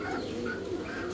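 A short murmur of low, throaty cooing from a red American Helmet pigeon, one of a pair of fancy pigeons, close by with nothing else over it.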